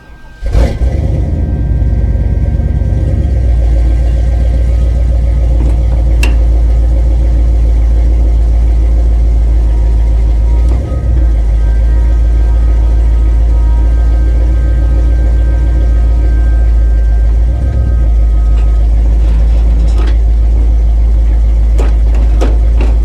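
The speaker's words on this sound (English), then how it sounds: "you probably couldn't hear that over my wicked exhaust in that thing" Car engine with a loud exhaust running continuously, a deep low rumble throughout with a few brief revs and clunks, close and steady, no talking.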